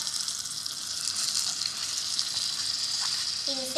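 Biryani ingredients, with soaked basmati rice added, sautéing in a tiny miniature pan, giving a steady, close sizzle and frying hiss that runs unbroken throughout, with a faint clink near the end.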